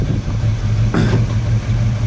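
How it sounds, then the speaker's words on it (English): A 1974 GMC Jimmy running as it is driven, with a low, steady engine rumble heard close by and a brief louder burst partway through. "Kyle's just gonna try out the Jimmy, drive it around a little bit"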